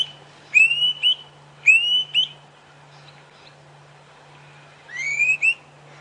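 A thick-billed cuckoo calls on a safari drive, three bright whistled phrases, each a rising note with a quick follow-up, spaced a few seconds apart at moderate distance over a low steady hum.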